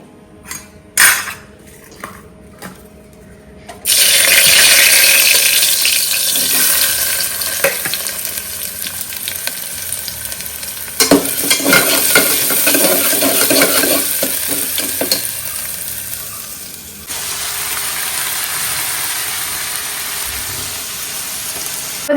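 Chickpea curry (kadala) frying in a pan in a home kitchen, with steady loud sizzling and repeated scraping stirs of a utensil against the pan, metallic clinks now and then, continuing without talk.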